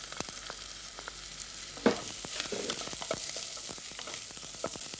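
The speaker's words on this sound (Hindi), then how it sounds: "तेल जब गर्म हो जाए तब आप उसके अंदर प्याज डालें।" Onion sizzles and crackles in hot oil in a pan, a steady bright frying hiss with scattered pops and a stirring clatter midway, heard up close with no voices.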